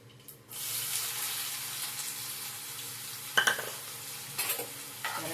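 Onions fry in a pan with urad dal, giving a steady close sizzle broken by a few louder scraping stirs. No voices are heard.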